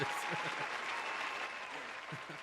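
A steady patter of audience applause at a live-streamed café night performance, close and continuous for a couple of seconds, with faint voices mixed underneath.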